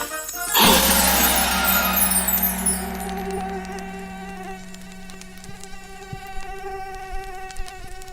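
Mosquito buzzing, a thin high whine that starts abruptly and then hums steadily and close, slowly fading in strength over several seconds with no talking.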